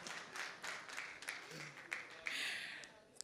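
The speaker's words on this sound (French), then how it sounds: "Pasteur Mike, il y a même des applaudissements." Scattered applause from a church audience, faint and distant, with claps rising and falling under a murmur of background voices.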